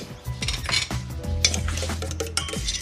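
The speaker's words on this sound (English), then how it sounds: "Add that very quickly and stir it." Egg yolks being stirred quickly into an evaporated milk mixture, with brisk clinking and scraping of a utensil against the bowl over a soft background hiss, close up and without speech.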